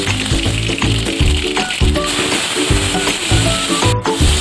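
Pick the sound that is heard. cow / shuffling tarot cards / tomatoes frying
tomatoes frying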